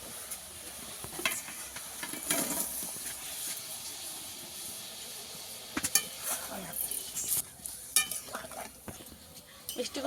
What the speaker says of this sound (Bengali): মিষ্টিগুলো ভালো করে নাড়িয়ে চাড়িয়ে রসের মধ্যে দিয়ে দিয়েছি।